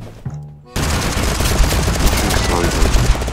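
Rapid, loud AK rifle bursts in the video game Totally Accurate Battlegrounds erupt after a brief quiet moment with a voice, sustained dense gunfire continuing to the end.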